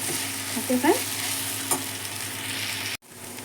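Okra pieces cook in oil in a pan, a steady low sizzle with a short scrape or stir early on and a faint click, close by, before the sound cuts out abruptly near the end.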